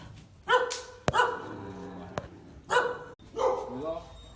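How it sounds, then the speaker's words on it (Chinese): Several dogs rescued from slaughter in Sichuan barking and yipping in bursts, a few sharp barks close by amid whimpers, with people talking over them. "这么多狗狗了"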